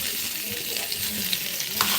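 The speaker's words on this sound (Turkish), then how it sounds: "Suyunu çeke çeke kızarıyor." Diced chicken pieces sizzle and crackle steadily in butter in a hot pan, a continuous close-up hiss with small pops and faint stirring.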